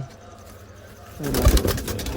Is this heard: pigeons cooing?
yes